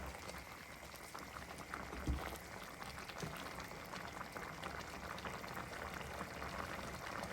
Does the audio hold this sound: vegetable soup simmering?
yes